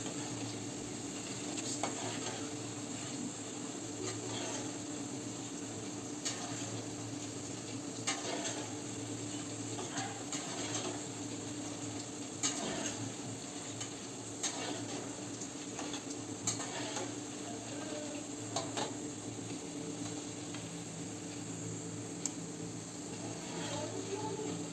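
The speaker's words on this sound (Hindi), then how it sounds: "इस तरह से हाई फ्लेम पर चलाते हुए क्रिस्पी कर लेना है" Boondi pearls of gram-flour batter fry crisp in hot oil over a high flame, a steady dense sizzle running throughout with periodic scraping clinks of a stirring spoon against the pan.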